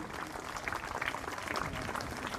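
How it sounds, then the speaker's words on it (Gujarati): Continuous, fairly faint crowd clapping welcomes and honours guests at a district-level maths, science and environment exhibition in Gadhada, Botad, with a steady, uneven texture throughout. "આપણે તાળીઓથી આ સ્વાગત અને સન્માનનો વધાવીએ"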